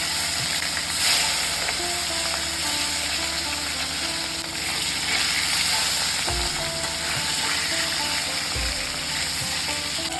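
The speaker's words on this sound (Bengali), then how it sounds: "এটা কাতলা মাছ। মাছগুলো ভেজে নেব" Salted catla fish pieces frying lightly in a pan crackle with a dense, even sizzle that stays continuous throughout, with a couple of low thumps.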